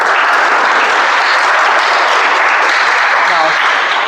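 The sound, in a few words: applause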